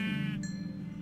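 A single sheep bleats in the video game Minecraft, a short wavering bleat up close over a steady low game background hum, with no talking.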